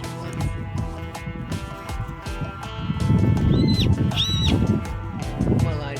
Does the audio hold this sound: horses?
yes